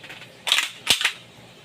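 Sharp plastic clacks and a snapping click come from an airsoft FMG9 folding gun as it is unfolded into submachine gun form, three quick close mechanical snaps over quiet room tone.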